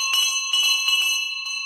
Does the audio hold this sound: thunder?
no